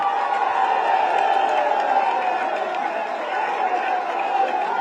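Crowd at a Samajwadi Party press event applauding and cheering in welcome of Akhilesh Yadav, a dense, sustained roar of clapping and voices filling the whole stretch.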